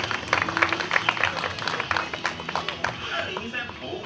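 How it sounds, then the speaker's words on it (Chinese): Audience applause at the 2013 Fo Guang Cup university women's basketball invitational in Kaohsiung Arena: dense, sustained crowd clapping with a voice speaking over it. "现在就用我们热烈掌声来欣赏这段影片"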